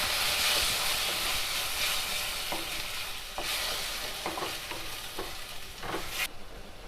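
Tomato puree being stirred into sautéed onions and capsicum for chilli idli, a steady close sizzle with repeated scraping strokes of a spoon against the pan, and no one talking.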